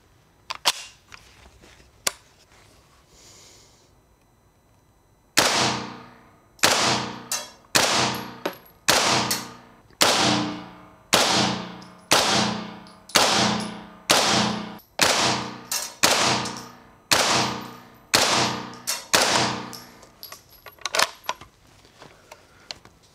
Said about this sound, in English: We're just gonna use the PT9R, which is the semi-automatic version. Let's target down there. Let's go shoot it a little bit.